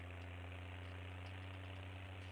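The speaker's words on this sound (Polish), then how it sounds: "Ale dziwny dźwięk ma ten traktor." A low, steady tractor engine idle in Farming Simulator 19 hums throughout, a constant drone with faint vibration and a short click at the very end.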